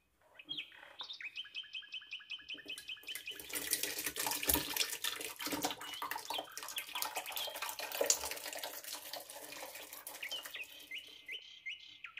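Half a liter of water is poured into a pot while making carrot jam with lemon, a steady splashing stream of water that is faint and close, with no talking.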